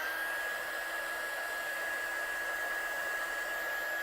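A hair dryer blows steadily at close range, drying acrylic texture paste, a constant airy whoosh with a thin whine and no pauses.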